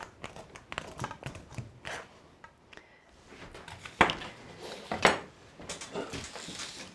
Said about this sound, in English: You just cut the butter up with this rocking motion, and you want the butter to end up being sort of pea-sized